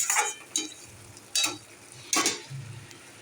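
Water poured into a pan of frying ground-almond prawn curry (badam chingri), giving short loud sizzling bursts with stirring scrapes, four separate surges fading between them, close up.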